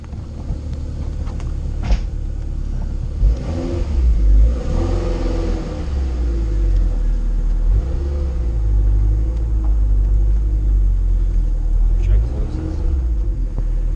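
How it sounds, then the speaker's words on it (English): A turbocharged Gen 4 car engine rumbles and revs in low, throaty bursts, rising and falling as the vehicle pulls away on a test drive, with steady road noise throughout. "this is test drive number 1 of our Gen 4 turbo car"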